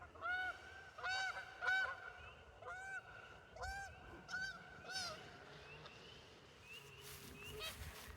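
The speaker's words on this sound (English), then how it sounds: "we got some geese flying in" Several geese honk repeatedly in short bursts, fairly close and loud, the calls overlapping as the flock approaches.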